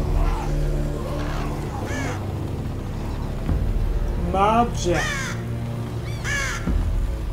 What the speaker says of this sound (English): Damn murder of crows.